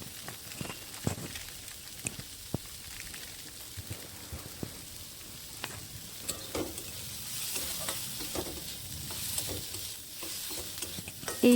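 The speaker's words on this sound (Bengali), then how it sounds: "এইভাবে নেড়েচেড়ে একটু ভাজা ভাজা করে নিতে হবে।" Turmeric, cumin and coriander powder stir-fried in hot oil for an egg tarka, giving a steady close sizzle broken by frequent scraping stirs of the spatula, with no voices.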